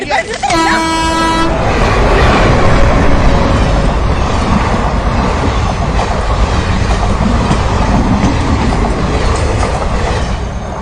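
A moving train rumbles steadily with rhythmic clatter and a horn toot at the start, while voices talk over the continuous loud noise.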